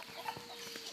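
A farm chicken clucks in short, soft, repeated calls outdoors, fairly faint against a light background hiss.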